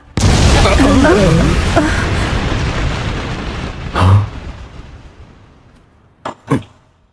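A loud explosion erupts at the start of an anime scene, a deep roaring blast that slowly fades away, followed by a thud and a couple of sharp pops.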